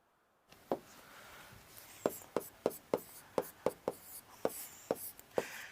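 Someone writes a note by hand, giving a series of crisp, distinct taps and scratches from the writing tool at an uneven rhythm. They sound close but fairly soft.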